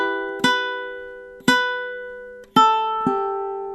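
Ukulele finger-picking the opening measure of a song, four plucked notes spaced apart, each ringing out and decaying clearly, played alone and close.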